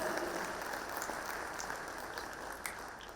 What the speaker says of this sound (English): I feel like the video deserves a bigger round of applause.